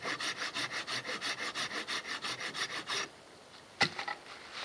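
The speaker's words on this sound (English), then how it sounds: "Instead of sawing straight, you want to saw at an angle." Hand saw cutting through wood at an angle during a bushcraft shelter build, about fourteen steady rhythmic back-and-forth strokes close up, then a pause and a single sharp knock.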